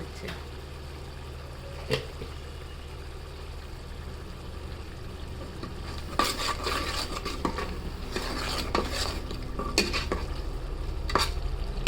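Spice paste with chili powder fries in a pot for chicken biryani, a continuous sizzle with repeated scraping stirs that grow busier toward the end, close and moderately loud.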